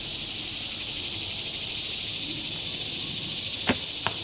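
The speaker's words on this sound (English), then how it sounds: "Shut those cicadas up there?" Cicadas outdoors on a Saturday morning at a 3D archery range drone in a steady, high continuous buzz throughout, with two sharp impact clicks near the end.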